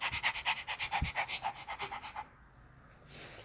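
A dog pants in quick, rhythmic, close breaths for about two seconds, then falls quiet except for faint background hiss.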